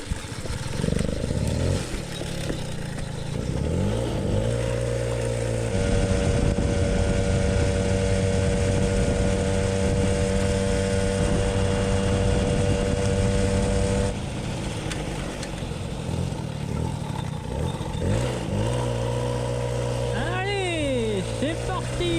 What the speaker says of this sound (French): Bon, on va essayer de démarrer ça à la poussette.